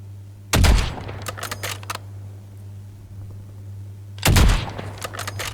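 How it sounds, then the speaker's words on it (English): Sniper rifle fire in Call of Duty Warzone, two sharp loud shots several seconds apart, each followed by quick mechanical clicks, over a low steady hum. "it seems like somebody's sniping down here"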